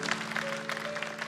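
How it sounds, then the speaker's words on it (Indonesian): A church congregation at a Sunday worship service in Surabaya claps together in a steady, dense wash of applause, with sustained keyboard tones ringing underneath. "Tepuk tangan bagi Tuhan."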